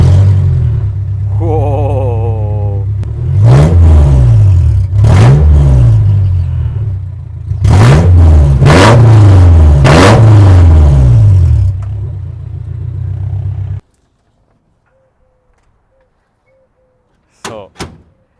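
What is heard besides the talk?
Ford Model A with Honda S2000 engine swap revving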